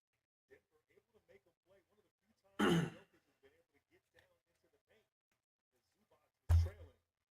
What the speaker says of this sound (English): This cough has been absolutely disturbing me these last, week or so?